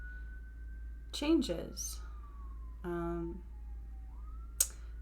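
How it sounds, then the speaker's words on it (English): A distant siren wails steadily, its pitch slowly sliding, while a person speaks briefly over it. "Sorry about the sirens."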